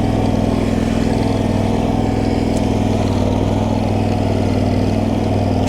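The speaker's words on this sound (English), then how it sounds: "Vanguard is running smooth." A new Vanguard engine on a big garden tractor runs smoothly at a steady idle, a loud, close, continuous low chugging with an even pulse and no talking.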